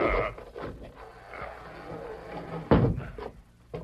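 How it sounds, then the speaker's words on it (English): In a radio drama, a wooden trap door in the floor is heaved up, giving a few scraping creaks and then a sharp, close thud with a smaller knock afterward. "This part of the floor. It's a trap door."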